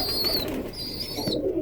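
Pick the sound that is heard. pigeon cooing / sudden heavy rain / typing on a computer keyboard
pigeon cooing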